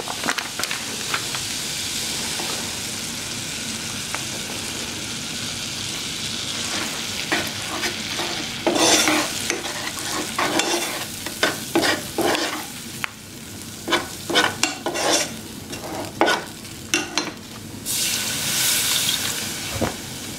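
Vegan crêpe batter of flour and milk is worked with a whisk to smooth out lumps, a soft steady swish followed by a run of quick scraping and tapping strokes against the bowl, with no talk.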